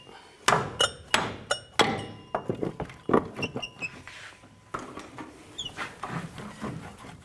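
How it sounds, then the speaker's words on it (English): Loud, sharp hammer blows strike metal while hammering out an upper control arm on a 2007-2014 GMC Sierra 3500HD, first a few heavy spaced hits, then a quicker run of lighter taps and clinks. "Take a hammer and just hammer it out."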